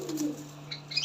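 A heavy boot lotan pigeon with feathered feet gives a low, soft coo, one brief rolling call, close and alone in a quiet setting.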